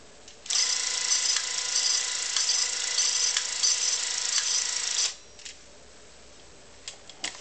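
A Bolex H16 spring-wound film camera runs at 32 frames per second, a close, steady whirring mechanical chatter lasting about four and a half seconds before stopping, followed by a few faint clicks.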